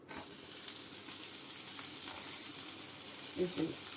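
Onion is dropped into a hot pan and fries with a steady, close hiss and sizzle, with a few faint clinks and a low voice briefly heard near the end.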